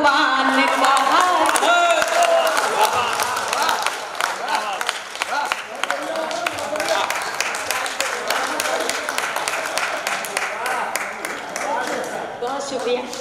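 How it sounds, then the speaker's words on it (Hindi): Dense, sustained audience clapping fills the hall at a Hindi kavi sammelan poetry recital, loud at first and easing slightly but continuing steadily without a break. "आपकी ये भरपूर तालियां मुझे ऊर्जा दे रही हैं"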